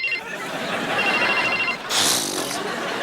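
A telephone rings indoors in a household comedy scene, with electronic trilling bursts sounding close and clear, followed by a brighter, noisier burst; no one speaks over it.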